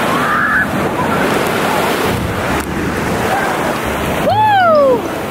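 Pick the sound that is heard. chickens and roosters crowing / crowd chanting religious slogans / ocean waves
ocean waves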